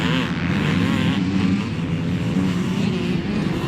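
Yamaha two-stroke dirt bikes, a 2023 YZ500 and a 1988 YZ490, race close together on a motocross track, their engines a loud continuous buzzing snarl that rises and falls throughout without pause.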